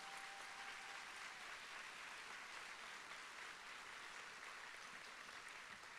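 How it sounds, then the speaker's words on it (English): Faint, steady applause from an audience at a school district celebration, honoring support staff, a continuous wash of clapping with no talk. "let us give you an applaud for all the great things you've done"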